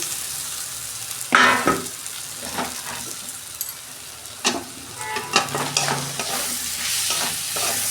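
Ridge gourd and potato pieces fry in a chilli-turmeric spice masala, a steady sizzle broken by several louder scraping stirs of the pan, close and with no talking.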